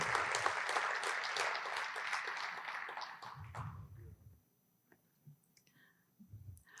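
Audience applause at a West Point military recognition ceremony, a broad wash of clapping for about three seconds that tapers and stops, followed by scattered low thumps and quieter room noise.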